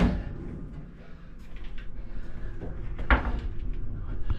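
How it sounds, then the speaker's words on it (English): Snack drawers in a Las Vegas hotel room slide open with soft wooden scrapes and a light knock, close and quiet in a still room. "We've got some snack drawers."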